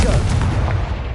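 A Confringo blasting curse from the Hogwarts Legacy video game bursts as one loud, sustained explosive boom with a deep rumbling body that fills the whole moment.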